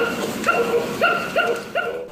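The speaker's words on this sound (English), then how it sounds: "The toy makes some low noises at first, but once she says something about it, it apparently becomes very aggressive and starts growling in response." A child's Mickey Mouse toy gives four strained, whining growl-like calls in a steady rhythm, fairly loud and close, with no voices.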